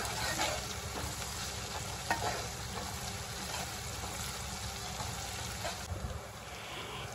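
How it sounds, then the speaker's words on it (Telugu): Cardamom, cloves and ginger-garlic paste fry in a pan for chicken biryani, producing a faint, even hiss of oil that stays steady throughout with only a few small pops. "ఇలా వేసిన తర్వాత కొంచెం ఫ్రై అవ్వాలి."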